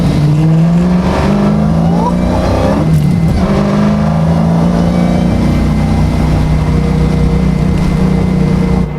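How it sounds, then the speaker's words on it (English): A 1971 Dodge Challenger Hellcat restomod's loud, throaty exhaust rumbles continuously, briefly revving and dipping mid-way before settling back into a steady, deep drone up close. "They did a really good job with their exhaust note."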